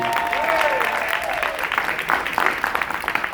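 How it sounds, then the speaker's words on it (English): An audience claps and cheers at a live event introducing a business partner, applause building to a loud, dense patter that trails into scattered individual claps, with some voices mixed in. "Y'all clap it up for Idris Sandu."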